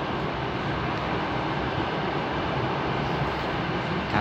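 An electric commuter train rushes past close by, a loud, steady roar of wheels and rails that holds throughout, with no voices over it.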